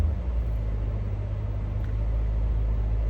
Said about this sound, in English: I just heard a car turn on